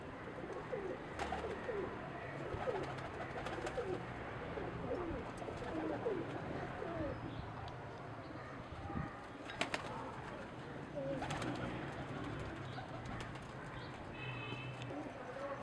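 Soft, continuous cooing and fluttering of many pigeons close by, with a faint background murmur throughout.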